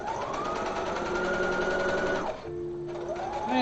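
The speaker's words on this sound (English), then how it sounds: "I'm gonna sew and stop right here" A sewing machine stitching fabric at a rapid, even whir for about two seconds, stopping briefly, then starting again at a slower speed, close by with no talking.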